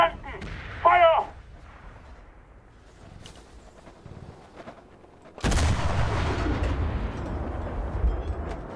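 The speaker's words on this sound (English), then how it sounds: "Wir brauchen Artillerieunterstützung!" Heavy artillery barrage in the video game Enlisted, a dense, loud rumbling roar of blasts that erupts suddenly midway and sustains to the end, after a quieter stretch with a brief radio-like voice burst near the start.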